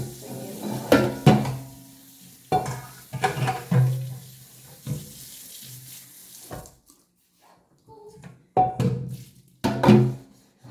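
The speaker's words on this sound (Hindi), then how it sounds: "तो अब मैं धो रही हूँ बर्तन।" Dishes are washed in a sink with tap water, uneven bursts of splashing and clinking come and go with short quiet gaps between them, close and moderately loud, no talking.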